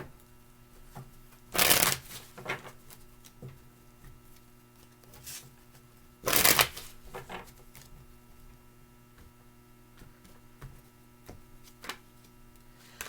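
Two quick bursts of tarot cards being riffle-shuffled, well apart, with light handling clicks and a low hum in the quiet between.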